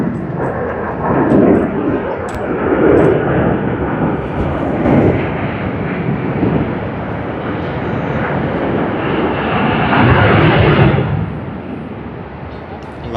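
An airliner in SkyTeam livery at Sydney Airport roars loudly and steadily with a broad jet engine rumble, holding near-constant for several seconds before easing off, with gusty wind noise mixed in.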